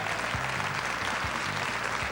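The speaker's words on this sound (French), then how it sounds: "Et je vous demande d'applaudir Gérard." Studio audience applause on the French television quiz show Questions pour un Champion, dense continuous clapping over a low rhythmic music bed with regular beats.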